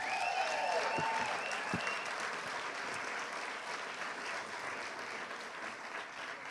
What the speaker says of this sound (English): Forbes Riley, please give her another round of applause